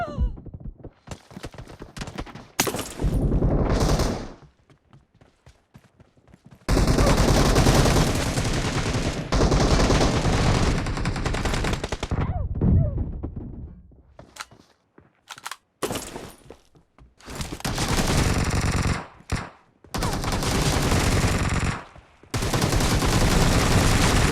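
Bursts of gunfire from the video game PUBG, loud rapid volleys broken by short silent gaps, with the shooting starting and stopping in irregular stretches.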